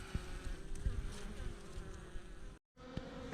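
Honey bees buzz steadily around a beehive kept treatment free, a continuous close drone of many wings with a brief dropout near the end.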